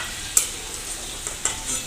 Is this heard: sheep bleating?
no